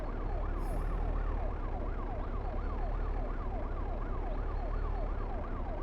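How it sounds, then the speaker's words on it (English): A wailing electronic siren rises and falls steadily and continuously over a constant low rumble, sounding synthetic like a game effect. "Otherwise that siren is going to be going for a long time."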